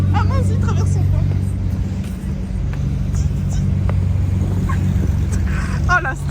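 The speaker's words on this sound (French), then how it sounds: "il y a beaucoup de voitures qui passent" Traffic passes along a busy Monaco street during a Formula 1 weekend, a loud steady rumble of engines and tyres with cars going by close, and people talking faintly amid the noise.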